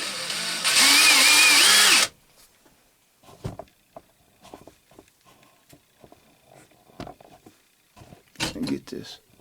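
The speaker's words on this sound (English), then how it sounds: "drill a hole and tap it." Power drill boring a hole in metal during grinder maintenance, a loud steady whine lasting about two seconds at the start, followed by quieter clatter and handling noises.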